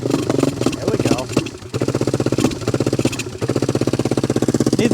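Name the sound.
old three-wheeler engine running roughly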